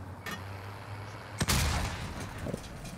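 A single sharp gunshot cracks out in a horror video game, loud and close, followed by a lingering noisy tail over a low ambient hum, with no talking.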